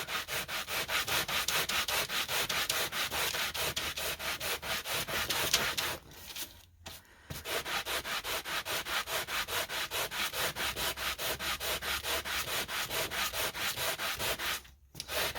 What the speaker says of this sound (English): And the more you sand, the more of your undercolor you're going to have come through.